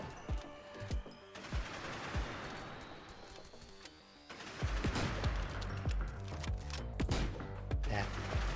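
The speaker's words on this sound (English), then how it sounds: "You are firing 6 or 7 bullets." Video game gun firing bullets in Nimrods: a fast string of sharp shots, sparse at first and then a denser, louder rattling volley with low thumps, heard clearly over faint background.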